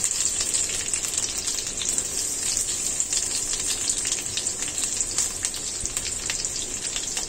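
Onions frying in butter and oil in a pan for curry chicken make a close, continuous crackling sizzle at an even level throughout, with no speech.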